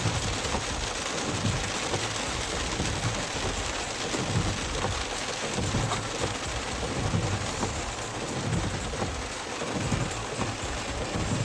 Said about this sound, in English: Oh, I'm out in the rain.